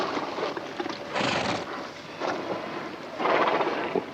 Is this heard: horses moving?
yes